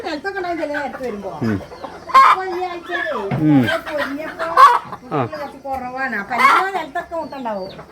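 Native free-range chickens cluck and call repeatedly close by at a poultry farm, the bird sounds mixed with people talking throughout.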